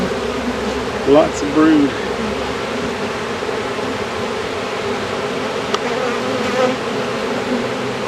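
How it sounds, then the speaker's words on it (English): Honey bees buzz steadily in an open beehive during December, a continuous close droning hum with a few louder individual bees passing near, while a person talks briefly over it. "These bees think it's springtime."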